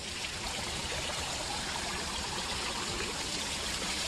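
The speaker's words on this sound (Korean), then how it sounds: "이 분수에서 나오는 물소리만으로도 굉장히 마음이 시원해지는데요" Steady splashing water from a garden fountain, a continuous broadband rush that stays even throughout, close by with no voices.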